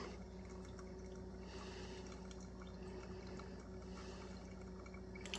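A steady stream of water pours continuously over coffee grounds with a soft trickling wash, close and even throughout, no voices.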